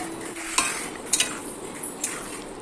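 A spoon stirs soybean kofta curry with added water in a pan, giving a few light scraping clinks against the metal over a soft continuous simmering hiss, close and quiet.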